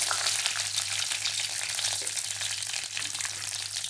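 Garlic and curry leaves frying in hot oil in a pan for a Tamil yam curry, a steady close crackling sizzle running throughout with no voices.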